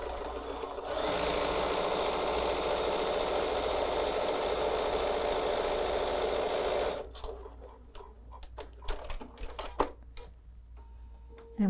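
Sewing machine stitching a quilt seam with black thread, running loud and steady for about six seconds, then stopping and leaving scattered faint clicks and handling noises.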